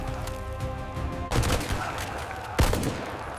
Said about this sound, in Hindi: फायरिंग के नीचे से निकलो!